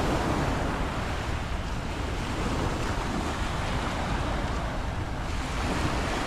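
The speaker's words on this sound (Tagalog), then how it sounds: "Malakas na yung alon dito." Strong ocean waves surge onto Ras Tanura Beach in Saudi Arabia's Eastern Province, a steady loud wash of surf with wind buffeting the microphone throughout, no voices heard.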